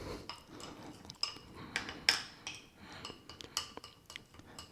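A utensil stirs lemon chicken sauce in a pan, giving faint, close clinks and scrapes against the metal in an irregular rhythm.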